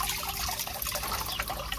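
Water pouring from filter pumps, a continuous close trickling and splashing flow heard alone with no talk.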